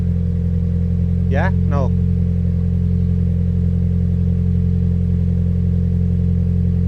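Toyota GR86 fitted with an Akrapovic exhaust, idling steadily and loud at close range on a cold start, with a brief voice breaking in near the start.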